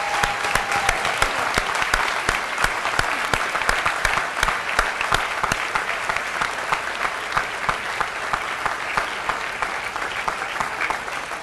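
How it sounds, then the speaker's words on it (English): A loud, sustained round of applause from a large audience at a political conference, dense rapid clapping that holds steady throughout with no voices standing out. "I think we should remember Steve Gilliard with a loud round of applause for everything he did"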